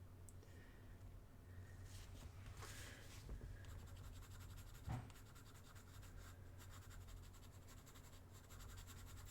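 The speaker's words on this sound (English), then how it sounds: "You hear me scratching on the paper?" Continuous light scratching of a pencil on paper while colouring, steady and close, with a brief louder thump midway.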